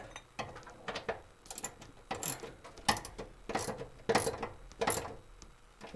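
Ratchet wrench tightening bolts on a truck, a series of close, sharp clicking bursts in quick repeated strokes with short gaps between them.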